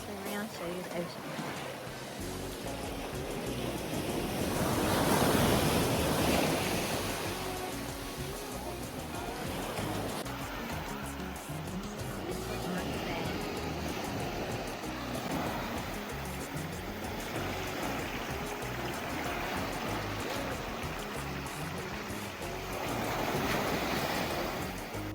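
Ocean surf rolling onto the white-sand beach at Trunk Bay on St. John, steady wash of waves with wind buffeting the microphone and a couple of louder surges, heard alongside voices.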